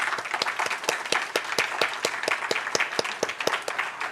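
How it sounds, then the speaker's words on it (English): A small event audience gives a quick round of applause for the event planners at an awards night, individual claps standing out sharply in a steady, moderately loud patter with no talking. "Can we give them a quick round of applause?"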